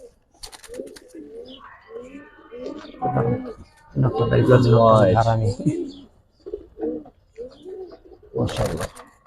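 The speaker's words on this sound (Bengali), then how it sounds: "দুইটা একবারে টানা গলা কবুতর" Two long-necked Giribaz pigeons coo in repeated throaty bursts close by, with a louder rolling coo in the middle, while people talk over and between the calls.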